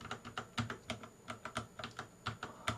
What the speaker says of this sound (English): the mechanical key switches do just feel a lot softer